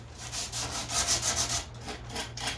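Sanding a rough wooden table in a woodshop: a steady, close scratchy rubbing that swells in repeated strokes with a low hum underneath, no voices.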